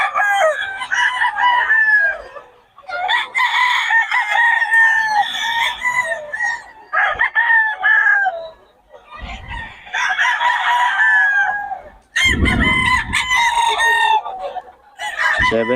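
Young roosters (stags) on a farm crow loudly and close by, one long crow after another with brief gaps and some clucking mixed in.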